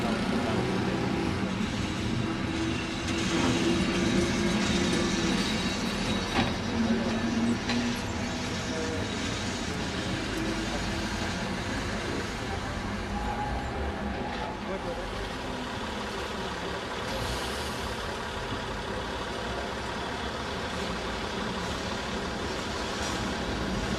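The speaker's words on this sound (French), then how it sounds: "nous retrouvons le flot incessant des tramways" Trams rolling through Lisbon's lower town, a continuous rumbling rail and traffic drone that stays steady and moderately loud throughout, with a voice talking over it at times.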